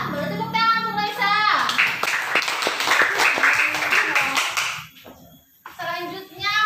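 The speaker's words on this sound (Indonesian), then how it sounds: "Boleh tepuk tangan untuk Raisa." Classmates in a classroom break into a burst of clapping for a student, a few seconds of dense hand claps between a teacher's spoken lines before and after.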